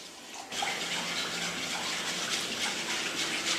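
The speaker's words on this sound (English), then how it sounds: "For the radish rice, wash 2 cups of rice." Steady running water pours and splashes for the whole clip, starting after a brief quiet moment, as two cups of rice are washed under a tap in a bowl in a sink.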